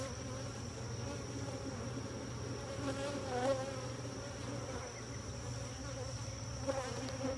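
Honey bees buzz steadily around two backyard beehives during a hive check, a dense, even drone that stays fairly faint throughout with slight swells as insects pass closer.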